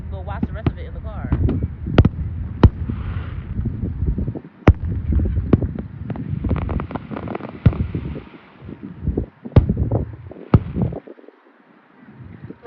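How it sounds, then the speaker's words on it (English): A fireworks show outdoors, with sharp bangs and crackling bursts scattered irregularly throughout, some loud and close, others more distant, over wind noise and people talking nearby. "I'm gonna record the whole fireworks show first."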